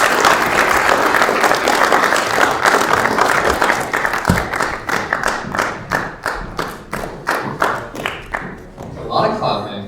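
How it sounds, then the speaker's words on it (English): A crowd at a college speech competition claps loudly and densely, then settles into rhythmic, unison clapping with distinct beats, ending as a voice speaks over the fading hands. "A lot of clapping."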